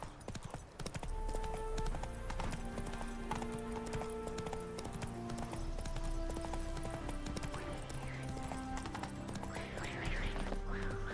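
Roach the horse's hooves clip-clop steadily in The Witcher 3 around Novigrad, loud and continuous over game music with a brief whinny-like sound.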